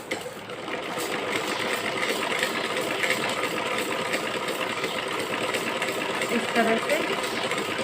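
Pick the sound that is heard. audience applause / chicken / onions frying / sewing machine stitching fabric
sewing machine stitching fabric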